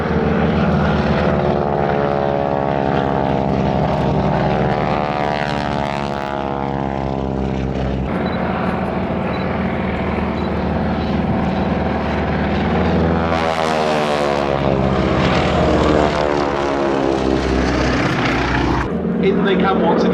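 Propeller aircraft fly synchronized aerobatics for a wingwalking act at an air show at East Kirkby, their engines droning loud and close with pitch swells as they pass, while a commentator talks over them.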